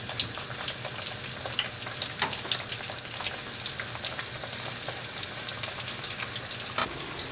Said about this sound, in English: we're just going to cook it on one side until it is nice and golden brown